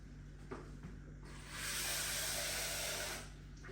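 Water poured onto salted cabbage in a bowl while making kimchi, a steady hissing pour of about two seconds that swells and fades, close and fairly quiet, with no talking.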